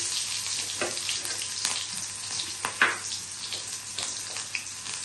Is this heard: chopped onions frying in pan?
yes